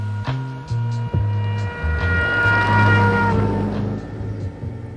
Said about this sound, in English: What you heard there was the famous Doppler effect.